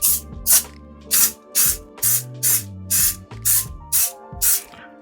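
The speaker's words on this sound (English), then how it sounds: "little spray, a little mist" A spray bottle of avocado oil mists in about ten short, crisp hissing bursts at a steady rhythm, close by, with no talk.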